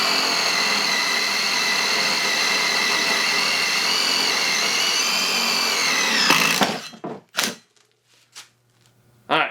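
A power drill bores a hole with a bit, a steady loud whine running several seconds before cutting off, followed by a few short bursts and clicks.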